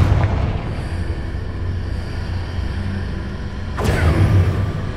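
A Confringo blasting spell explodes in Hogwarts Legacy, a low rumbling boom under steady game ambience, then a sharp crack that breaks into a louder roar near the end.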